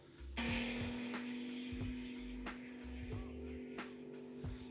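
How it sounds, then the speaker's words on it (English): An AI-generated car revving effect plays on its own, a low engine drone swelling and easing in repeated surges beneath a steady mechanical hum, moderately loud and close. "that's a pretty good sound of a car revving"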